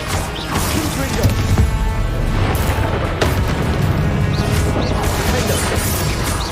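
Booming blasts from a Confringo spell in a Harry Potter video game, loud and continuous with crashing impacts layered over dense rumbling game noise.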